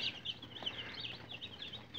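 Roosters and some hens clucking and chirping softly, a steady, faint flock chatter with no voices.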